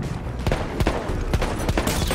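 Several sharp pistol shots ring out in a Battlefield 1 match, spaced fairly evenly over a couple of seconds against steady background battle noise.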